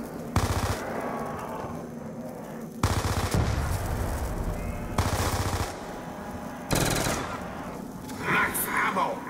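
Bursts of automatic gunfire from a Call of Duty Black Ops 2 Zombies solo match, four loud sustained volleys separated by brief pauses, with a voice talking between the bursts.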